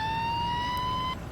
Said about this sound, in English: Let's back down that siren here, and we'll get it going again at the intersection.